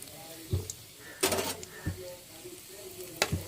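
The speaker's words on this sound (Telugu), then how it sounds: "దాంట్లో పోపు ఎండుమిర్చి వేసుకున్నాం" Dried red chillies tempering in hot oil in a kadai: a soft sizzle runs beneath several sharp clanks and scrapes of a spoon against the pan, close and intermittent.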